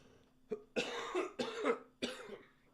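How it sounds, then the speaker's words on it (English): Several harsh coughs in a row, four or five bursts spaced unevenly over a couple of seconds, close to the microphone with no talking. "I apologize for coughing."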